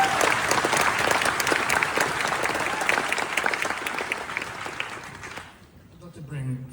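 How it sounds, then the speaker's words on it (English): An audience applauds at a New York Film Festival screening Q&A, loud dense clapping that continues for about five seconds and then fades out, followed by a speaking voice. "you can clap for him for that"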